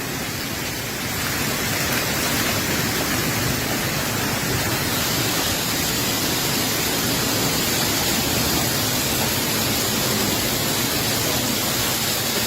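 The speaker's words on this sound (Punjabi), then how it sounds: "ਇਹ ਗੜਿਆਂ ਦੀ ਆਵਾਜ਼ ਹੈ ਉੱਪਰਲੇ ਪਾਸੇ" Hailstones drum steadily on a fibre roof overhead during a February hailstorm in Punjab, making a dense, continuous roar that stays loud and even throughout with no talking.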